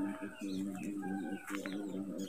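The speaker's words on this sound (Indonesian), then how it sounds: "Burung berkicau." Birds calling near a remote Javanese village with coconut palms, a steady run of repeated cooing and warbling calls close by, fairly loud and continuous with no talk over them.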